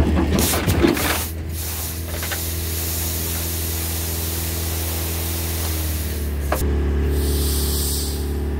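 A truck tire bursting on a harrow with an old Chevrolet 6.5L diesel truck: a sharp burst of noise at the start, then a steady low engine drone with a continuous hiss of escaping air running throughout.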